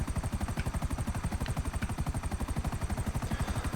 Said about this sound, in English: So this is our last drop for this helicopter coming up.